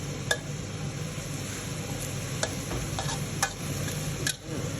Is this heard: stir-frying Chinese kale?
yes